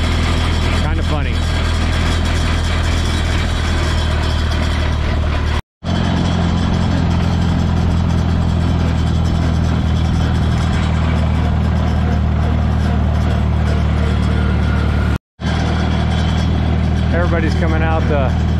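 A yellow Minneapolis Moline tractor rumbling along at an Ohio steam and engine show, its low steady engine drone loud and close throughout, briefly cutting out twice.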